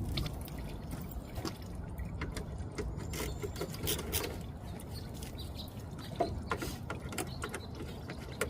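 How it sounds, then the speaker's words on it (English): A ratchet loosening the 10mm bolts on the AC condenser of a Chevy Cobalt during a radiator replacement: rapid metallic clicking in close, irregular bursts, moderately loud, with no talk. "by removing the 10mm bolts."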